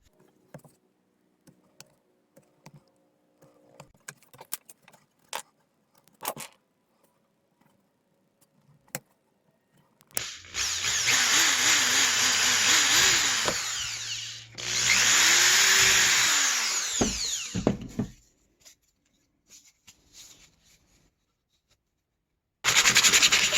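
After scattered quiet clicks and handling noises, a power drill whines loudly in two long bursts as it drills holes in PVC, then starts up again briefly at the end.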